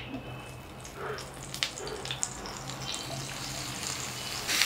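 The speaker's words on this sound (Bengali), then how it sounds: "আমরা কড়াইয়ে 1 টেবিল চামচ ঘি নিয়ে নিচ্ছি, তাতে 2 টেবিল চামচ পেঁয়াজ বাটা দেব" Onion paste frying in ghee in a wok, a steady soft sizzle with faint hiss running throughout.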